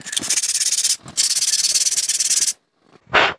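Sandpaper rubs rhythmically against new brake pads for an Isuzu Crosswind, two long runs of quick, even scraping strokes with a short pause between, then a final brief rub, close and loud with no talking.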